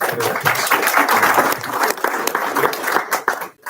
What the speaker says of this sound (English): with a round of applause, I request all of you to welcome her